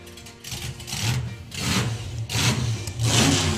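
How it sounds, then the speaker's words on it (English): A drag race car engine, seemingly a small block Chevy, fires up at a drag racing event, giving repeated throaty bursts of revving that rise and fall in uneven pulses, close and fairly loud. "Sounds like Greg's got the car fired."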